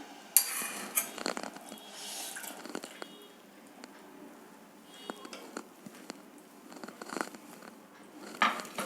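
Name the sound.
stirring jaggery syrup into cooked black sticky rice in pot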